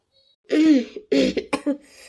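A woman's throat-clearing cough, a drawn-out rasp followed by a few short hacking bursts, close and fairly loud.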